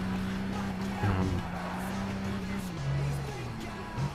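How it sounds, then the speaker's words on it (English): A racing car engine in Gran Turismo 6 drones with shifting pitch, rising and falling through gear changes, with a person talking over it. "From what I can hear, it sounds like a proper car."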